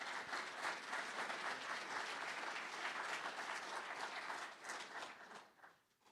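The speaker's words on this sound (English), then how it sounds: "Let's give them a round of applause." Sustained applause from a large crowd, steady and dense for several seconds before tapering off and fading near the end.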